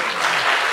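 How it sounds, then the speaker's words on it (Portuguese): Audience applause at a comic hypnosis show, a short dense burst of clapping from a crowd, steady and fairly loud throughout with no voices over it. "Uma salva de palmas."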